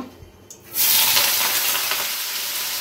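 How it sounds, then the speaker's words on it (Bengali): Potatoes frying in hot oil with water spattering, a quiet start giving way at under a second to a loud, steady broadband sizzle and crackle that carries on to the end, close by with no talk. "এই রে তেলের মধ্যে, খুন্তির মধ্যে জল ছিল বোধহয়। তো এখন আলু ভেজে নেব"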